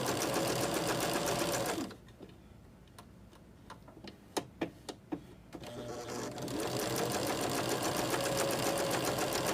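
A sewing machine chain piecing quilt pieces runs steadily and loudly, then stops. During the pause come a few separate ticks and clicks, and then the machine starts stitching again at full speed.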